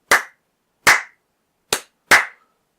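Four sharp, loud hand claps used to sync audio and video, close to the microphone and spaced unevenly, each with a short decay and silence between.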